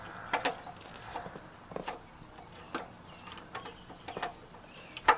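Hand tightening of a part on a go-kart engine, a sparse series of small metallic clicks, ticks and scrapes at irregular intervals, close and fairly quiet.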